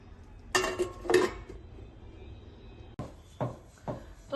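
A lid goes onto a cooking pot of creamy vegetable curry, giving a couple of close metallic clanks and scrapes followed by a few lighter knocks, with no talking.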